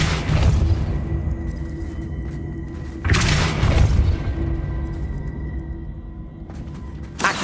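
A Depulso force spell cast in Hogwarts Legacy lands as heavy booming blasts, three loud thuds spaced a few seconds apart, each trailing a rumbling decay.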